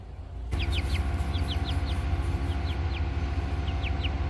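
Several chickens cluck and murmur close by, with short bright calls repeating over a steady farmyard background noise.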